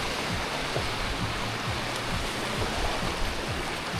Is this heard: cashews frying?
no